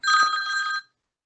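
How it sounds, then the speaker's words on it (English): An old-fashioned wall-mounted telephone bell rings once in a short, loud, bright burst of under a second, then cuts off into silence. "my phone rings while I'm on the phone"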